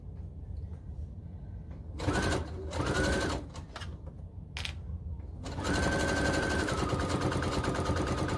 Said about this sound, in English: You're going to go forward, back stitch a little bit, and just sew all the way down.